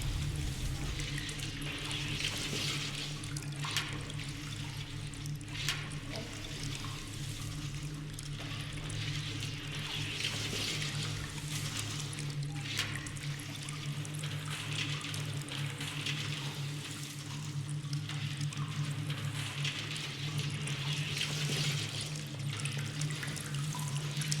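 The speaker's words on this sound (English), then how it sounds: "there is the sound of dripping water on planks, but when you go beneath, you hear the sounds of water dripping on planks from the other side" In the video game Among the Sleep, water drips onto wooden planks, a steady wet trickle with occasional distinct drops, quiet and continuous throughout.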